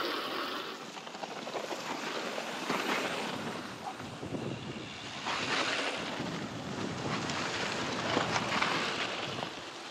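Wind gusts buffet the microphone in broad rushing swells on a bicycle trip along a river, rising and falling over a steady outdoor roar, with no speech.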